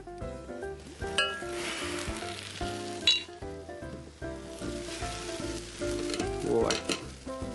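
Cuttlefish sizzles and spits steadily in hot extra virgin olive oil in a pan, with a continuous frying hiss, occasional stirring scrapes and light clinks of utensils against cookware, close and fairly loud throughout.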